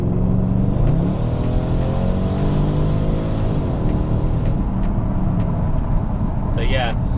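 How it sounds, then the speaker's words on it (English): A Jaguar XFR V8 with a straight-pipe exhaust accelerates hard, its deep engine note climbing through the revs, heard close from inside the car, with ticking sounds on top and no voice over it. "when you put your foot down, you can definitely hear that straight pipe sound"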